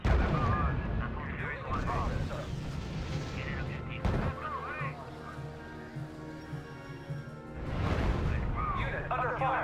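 Artillery fire in the R.U.S.E. strategy game, a German mission, with repeated loud booming blasts and rumble under radio-style voice reports and music.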